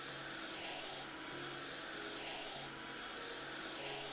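Vacuum cleaner in the House Flipper video game, a steady loud whine and rushing hum that holds continuously with slight wavering, heard alone with no talking.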